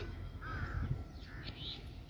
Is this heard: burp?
no